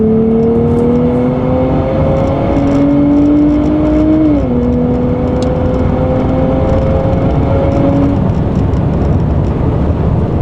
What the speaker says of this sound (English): I'm gonna give you a full acceleration here in 3, 2, 1.